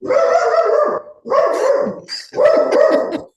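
Dogs barking close by in three loud, sustained bursts separated by short pauses.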